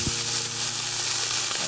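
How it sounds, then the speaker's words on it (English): Bacon, sausage and onions fry together in a Dutch oven over coals, giving a steady, close, dense sizzle with a faint knock near the start and no talking. "we're gonna fry the sausage, and we're gonna fry the onions all together"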